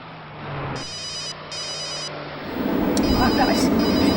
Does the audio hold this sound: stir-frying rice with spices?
no